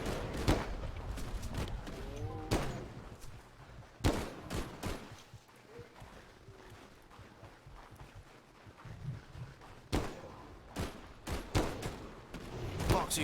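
Gunfire in the video game Finding Bigfoot, including 7.62 rifle rounds, comes as loud, sharp shots in scattered clusters, with a quieter stretch of wind and ambience in the middle and no talking.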